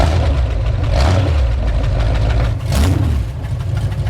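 Loud Cadillac V8 in a 1938 Ford rat rod running close by, a deep rumbling idle with brief revs and a dip in pitch, steady and heavy throughout with no talk.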